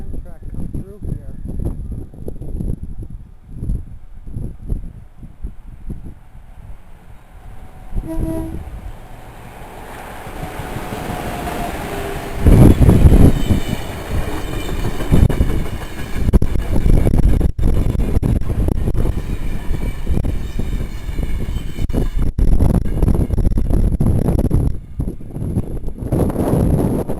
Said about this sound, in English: Most I've ever seen an Amtrak come through here.